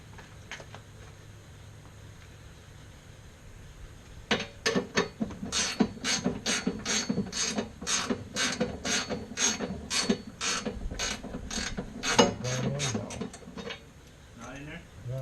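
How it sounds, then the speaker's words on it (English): A ratcheting gear wrench works on an engine during an install, giving a close series of about twenty crisp, evenly spaced clicks after a few quiet seconds. "give me the gear wrench, please."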